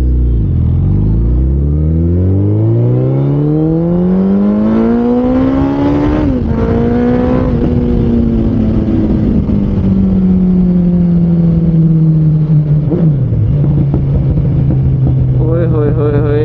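A Suzuki Hayabusa motorcycle accelerates hard, its engine note climbing steeply through the gears with brief dips at each shift, loud and close, then settling into a sustained high-speed drone.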